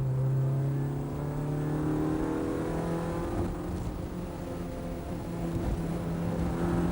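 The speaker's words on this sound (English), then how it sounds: "Mardi Gras boss Martin Shaw ushered the car back out of the pits onto the circuit." A 1994 Honda Civic saloon race car pulls out of the pits onto the circuit, its engine droning and revving steadily, fairly loud and close, with no talk.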